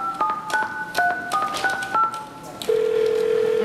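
A telephone number being dialed: a quick series of touch-tone beeps, loud and close, followed by a steady ringing or dial tone, with no voices.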